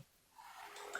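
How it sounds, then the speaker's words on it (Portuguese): A man lecturing clears his throat, a brief, soft, raspy rasp rising over about a second, close and alone. "eu estou com um pigarro aqui, meio complicado"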